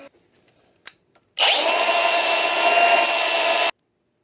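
A grinder grinds metal flat in the engine bay of a Chevy LUV being prepared for a 4.3 Vortec V6 swap, a loud steady abrasive whine lasting about two seconds after a few faint knocks.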